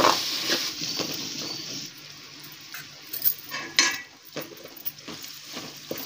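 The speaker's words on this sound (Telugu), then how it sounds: "ఇవి మొత్తం బాగా కలిసేలాగా ఫ్రై చేసుకుందాం" Coriander and mint leaves frying and being stirred in a pan for mutton biryani, with a steady soft sizzle and intermittent scraping and clinking of a spoon against the pan, close up and without talk.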